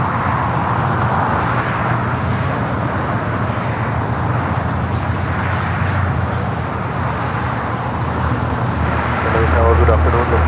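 A Boeing 777 airliner taking off at LAX gives a steady, broad jet engine roar that holds constant and swells slightly at the end, with a person talking over it.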